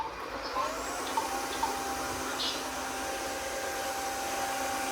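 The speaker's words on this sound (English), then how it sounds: "We will see if this cordless wet and dry vacuum cleaner can clean that." A Roidmi Neo cordless wet and dry vacuum cleaner runs on a laminate floor with a steady, even motor whir and airy hiss, broken only by a few faint clicks.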